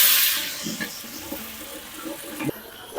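Tempering spices and green chillies hit hot oil in a large pot for a big batch of mutton, giving a bright hiss that settles into a softer, steady sizzle with small crackles.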